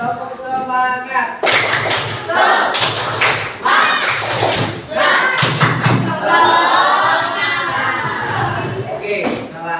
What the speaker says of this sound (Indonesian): Sekali lagi coba. Tepuk semangat.